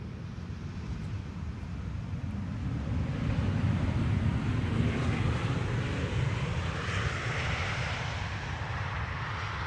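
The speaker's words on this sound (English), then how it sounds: "No reverser landing." An airliner landing on Schiphol's Polderbaan runway 18R without thrust reversers, a steady broad engine roar heard from outside at a distance, swelling slightly midway, with wind noise on the microphone.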